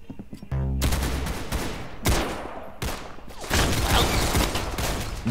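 Rapid bursts of gunfire from the Roblox shooter game Arsenal, loud repeated shots in several volleys with no talking over them.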